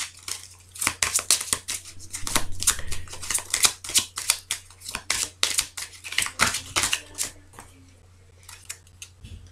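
Tarot cards are shuffled and dealt onto a table. Sharp snapping clicks and soft slaps come in quick irregular clusters, close and crisp, and thin out toward the end.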